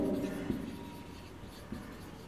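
Writing on a board during a physics lesson on electromagnets: soft, close scratching strokes, with a couple of light taps, steady and fairly quiet with no voice over it.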